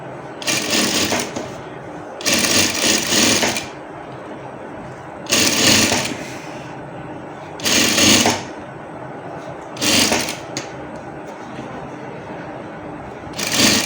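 A sewing machine stitches along the edge of a men's shirt in a run of short, loud whirring bursts, each about a second long, with brief quiet pauses between them.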